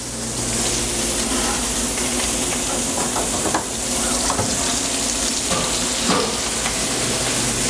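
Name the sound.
potato frying in hot oil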